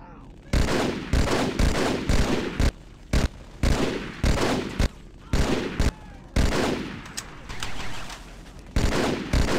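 Battle rifle fire in Halo CMT comes as repeated loud, sharp bursts of rapid shots, grouped in a fast irregular rhythm with brief pauses between volleys, close and dominant throughout.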